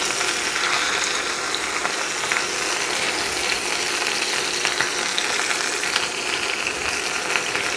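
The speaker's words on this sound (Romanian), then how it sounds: "Ia auziți când sfârâie." Chicken thighs fry in a pan with a loud, dense, continuous sizzle and crackle. The sound stays steady throughout, and no talk is heard over it.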